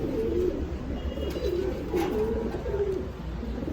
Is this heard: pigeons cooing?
yes